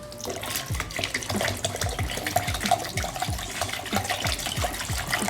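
Thick car paint pouring and glugging into a container, steady trickling and bubbling for several seconds, fairly close.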